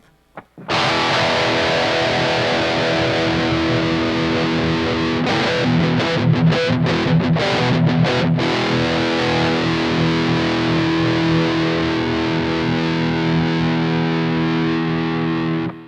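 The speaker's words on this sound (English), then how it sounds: "let's go back to the bridge and let's roll the tone knob down so you can hear what that sounds like" A distorted Gibson Les Paul electric guitar on the bridge pickup with the tone knob rolled down, giving a dark, muffled tone, sustained chords ringing with a burst of choppy strumming in the middle.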